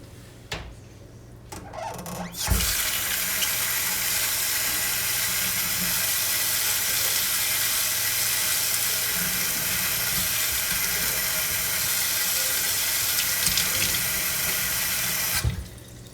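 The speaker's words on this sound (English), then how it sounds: "I'll go ahead and rinse these off" Tap water runs steadily into a sink as fish fillets are rinsed, a continuous close splashing hiss for about thirteen seconds that starts abruptly and then cuts off, with a few handling knocks at the edges.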